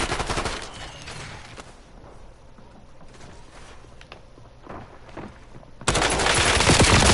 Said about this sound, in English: Keep shooting at them.